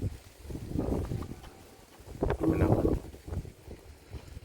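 Gusts of wind buffet the microphone in rumbling bursts outdoors while flying a DJI Mini 4K drone, swelling and easing over a few seconds, with no voices.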